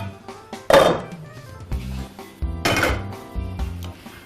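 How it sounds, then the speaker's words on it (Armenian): A wide cooking pot is handled, giving a few loud metallic knocks and clatters up close, with low resonant thuds in between and no talking. "Վերցնում ենք լայն կաթսա"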